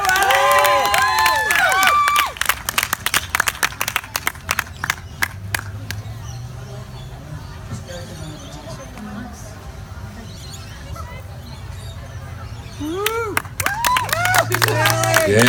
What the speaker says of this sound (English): Would you please give her a big round of applause and welcome her back?